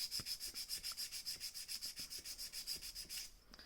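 Acrylic nail being filed: a steady rhythmic rasping, about six strokes per second, quiet and close, running evenly for several seconds before it stops.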